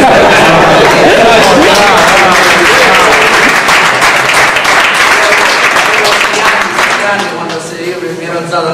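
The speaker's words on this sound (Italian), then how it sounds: "lascio un applauso per la carriera" Conference audience applauding in a hall, a loud sustained wash of many hands clapping that thins toward the end, with voices mixed in among the claps.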